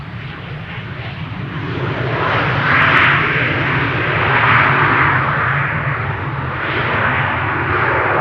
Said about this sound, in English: BizJet coming in to land on runway 27